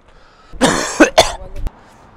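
A person coughing on a street, a short burst of three or four harsh, close coughs with a throat-clearing quality, followed by quiet.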